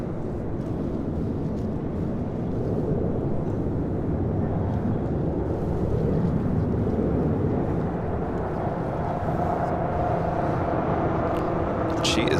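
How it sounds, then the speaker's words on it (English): A heavy Boeing 747 departs runway 25 right at LAX, a low, rumbling jet roar that stays steady and moderately distant, with muffled talk in the background. "caution wind turbulence, heavy 747 departing downfield"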